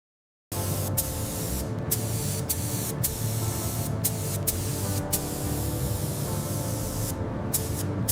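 Spray gun applying Rosso Corsa red paint to a part of a 2001 Ducati 996R superbike, a steady close hiss running unbroken throughout with faint brief clicks.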